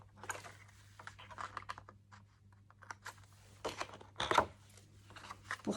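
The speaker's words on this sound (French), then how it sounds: "nous tournons notre feuille et nous découpons" A sheet of paper is cut by hand, a faint series of short crisp snips and rustles in quick irregular bursts, with a low steady hum underneath.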